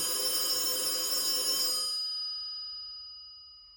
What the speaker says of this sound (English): Oh, there's our phone. That's our important person phone in the other room.